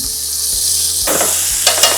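Scallops sear in a hot pan with a steady, close sizzle and crackle, growing brighter and more agitated partway through as the pan is stirred or shifted, with no talking.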